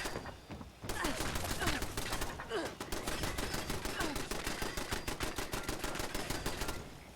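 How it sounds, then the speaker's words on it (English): Turret fire with incendiary rounds in Fallout: New Vegas, rapid rattling bursts of shots, close and loud, running almost without pause after a short opening. "Oh, they're like incendiary rounds."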